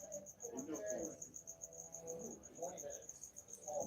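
Pet crickets chirp steadily in a rapid, high, even pulse, close and fairly faint, with low murmuring sounds underneath.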